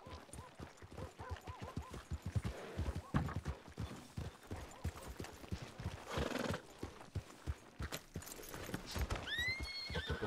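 Horse hooves clip-clop steadily through a western video game scene, with a horse whinnying near the end over a busy background of game sounds.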